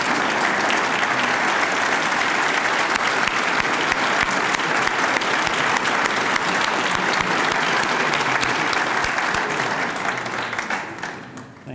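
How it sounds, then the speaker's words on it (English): Dense, steady round of applause from a lecture audience honoring Mrs. Tristani and her family, continuous clapping at even volume for about ten seconds before tapering off at the end. "why don't all of you and your family members please stand up and get a round of applause"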